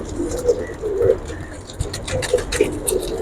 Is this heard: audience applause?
no